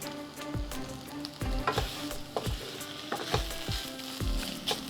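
Malabar spinach with turmeric cooking in a pan over low heat, giving a soft continuous sizzle and bubbling with repeated scraping stir strokes at a steady pace, quiet and close with no talking.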